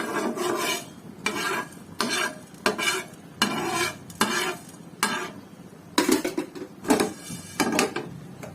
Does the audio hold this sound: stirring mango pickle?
yes